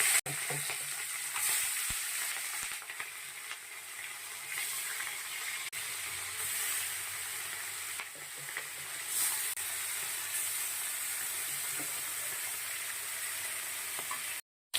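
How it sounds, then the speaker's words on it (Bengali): Fish (phasa) frying in hot mustard oil in a pan, a steady dense sizzle and crackle that holds close and even throughout, with no voices. "তেলটা গরম হয়ে গেছে, এখন মাছটা দেব।"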